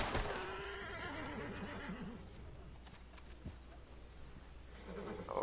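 Horse whinnying in a western video game, a wavering neigh rising and falling in the first two seconds over steady ambient game noise, with a second fainter whinny near the end.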